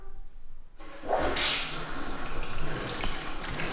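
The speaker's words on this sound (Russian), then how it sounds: "Все, включай воду." Tap water gushes into a bathtub in a home bathroom, starting abruptly after a brief quiet moment and then running as a steady, close hiss.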